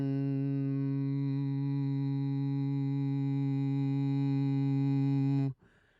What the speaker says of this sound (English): It's still a hum and it's still going down the nasal passage and it's pharyngeal and forward and brassy.